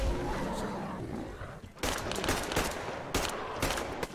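Sniper gunfire in the video game Metro Exodus: a few sharp, loud shots crack out at irregular intervals over a rumbling, noisy game background.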